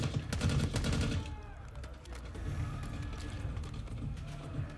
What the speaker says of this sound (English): They're shooting me from a distance.